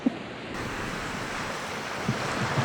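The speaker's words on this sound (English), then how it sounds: "North Berwick Beach." Surf rolls in steadily at North Berwick Beach in Scotland, a broad continuous wash of waves with wind buffeting the microphone.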